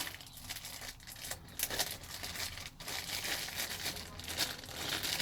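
Plastic bag packaging around a TwoSun TS76 Horizon knife is handled up close, giving continuous crinkling and rustling with a few sharper crackles.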